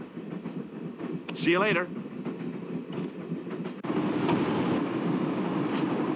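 Train in the Broken Sword adventure game rolling along with a steady rumbling clatter and rushing wind, a voice briefly speaking over it partway through.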